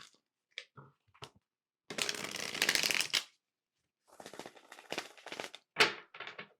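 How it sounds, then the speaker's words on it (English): Tarot cards being shuffled by hand in close, crisp bursts: a few light taps, then a long riffling rush, a pause, and another flurry of papery flicks and snaps. "One more shuffle."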